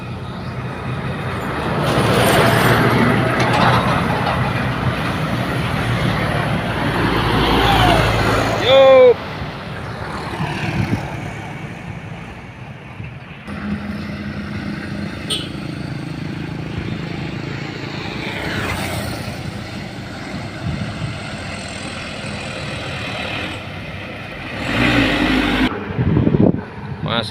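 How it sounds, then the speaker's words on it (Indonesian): A loaded dump truck hauling rice passes with a heavy rumbling diesel engine, loud and close then fading, mixed with road noise while people talk nearby. "Truk padi teman-teman."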